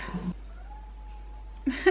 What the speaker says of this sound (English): It's my cat. He's talking to me.